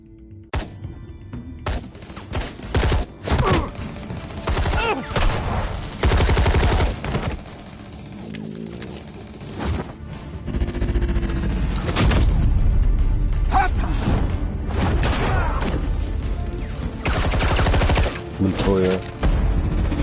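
Gunfire and shotgun blasts in a Batman Telltale video game, repeated loud bursts and booms spread through the scene, mixed with game music and voices talking over the action.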